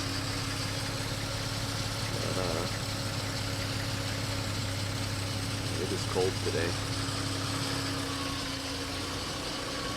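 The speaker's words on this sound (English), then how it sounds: "That engine sounds nice. No knocking or anything like that." A 1989 Jeep Cherokee XJ engine idles with a low, even hum throughout, with no knocking, while a person speaks briefly over it.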